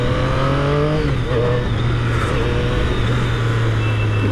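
A 2017 Triumph Street Triple S motorcycle's three-cylinder engine hums steadily up close, a low even purr with slight pitch shifts, no speech.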